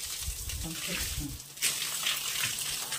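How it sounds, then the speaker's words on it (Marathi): Water gushes from a high-pressure motor pump, a loud, continuous rushing spray that swells after a moment, with faint voices underneath at first. "पाणी आलं लय पेशर मोटर ना. बघा कसलं चालायले पाणी."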